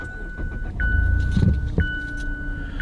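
Mazda with a Skyactiv engine starting up: a short starter whir followed by the engine catching into a low idle, alongside a steady electronic chime and small cabin clicks, no talking.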